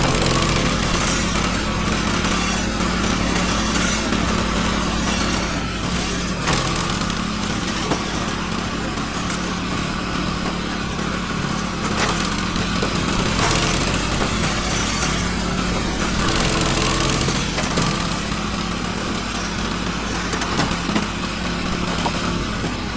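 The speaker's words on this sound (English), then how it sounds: "that wood splitter is intense" A wood splitter's engine runs steadily throughout at a worksite, a loud, continuous mechanical drone with a small-engine rattle and no pauses.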